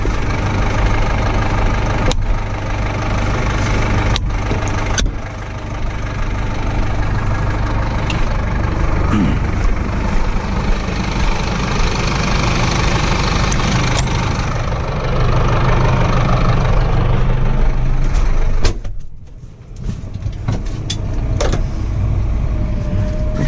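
A tractor fitted with a twin hydraulic pump idles with a steady low rumble and knock, loud and close, interrupted by a brief dip and a few sharp clunks, without talk.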